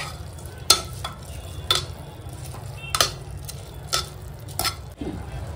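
A utensil scrapes and clacks against a pan while stirring paneer, in irregular strokes, about six sharp stirring hits over a soft background hiss.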